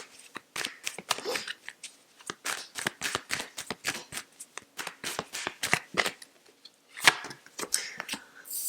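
Tarot cards being shuffled by hand, a close, quiet sequence of crisp riffling and slapping flicks in irregular bursts, with short pauses between them and no talking.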